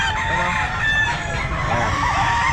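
Chickens cluck and a rooster crows loudly and close at a busy pet market, the calls overlapping into a dense, continuous din.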